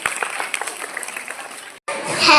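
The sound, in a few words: audience applause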